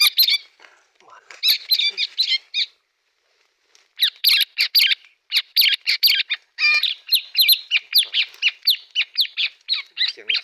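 Wild birds chirp and call repeatedly outdoors at dawn, sharp bright bursts in quick clustered phrases with short gaps, fairly close and clear, with no talking.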